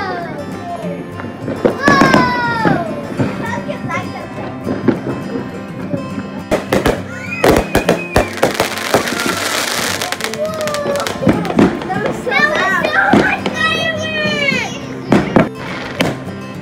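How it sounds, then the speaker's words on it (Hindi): Fireworks going off outdoors in the evening, a series of sharp pops and crackling bursts with whistling rises, heard near and loud while children shout and people talk throughout. "फायर वर्क्स यहाँ पर स्टार्ट हो चुके थे"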